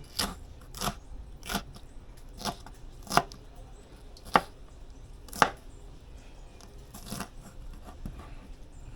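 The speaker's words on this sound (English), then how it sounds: "Then I go cut up one pepper." A knife chops a pepper on a board in a run of crisp, separate cuts at an uneven pace. The cuts are close and moderately loud against a quiet kitchen background, with no voices.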